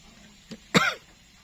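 One sharp, close cough, preceded by a faint short throat sound, in an otherwise quiet room.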